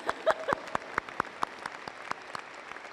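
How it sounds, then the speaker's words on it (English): Scattered clapping from an audience at a college honors convocation, sparse distinct hand claps in an uneven rhythm, a few loud early claps, then lighter, thinning applause tapering off. "But yeah, we'll just clap for that."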